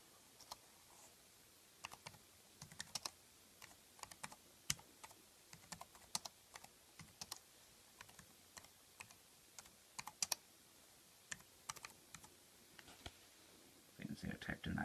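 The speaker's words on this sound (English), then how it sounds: "it does type okay. See when you type in." Rapid irregular key clicks from an iClever ultra-slim Bluetooth wireless keyboard, close and fairly quiet, in scattered bursts with a denser flurry of taps at the end.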